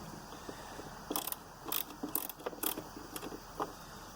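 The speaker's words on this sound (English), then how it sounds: "there's several nuts and bolts to take out here" Quiet metallic clicks and rattles of a ratchet working on nuts and bolts of a Nissan 300ZX Z32, a few short scattered ticks over a soft background hiss.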